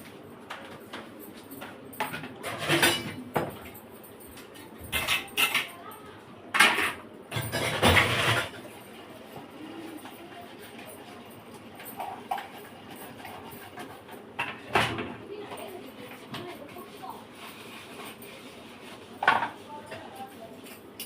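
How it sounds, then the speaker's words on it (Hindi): Dishes, pots and utensils are washed by hand in a home kitchen, with intermittent clattering and clinking of metal pots and cutlery in irregular bursts over low background noise. "ज्यादा बर्तन नहीं है, अभी कर लेते हैं जल्दी जल्दी बर्तन।"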